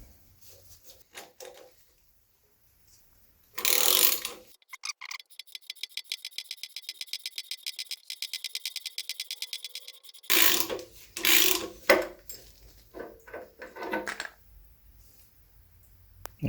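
An impact or ratchet tool works on the harmonic balancer bolt of a Pontiac V8 engine, with loud bursts and a long run of rapid rhythmic clicking, between quieter clanks of tools and parts.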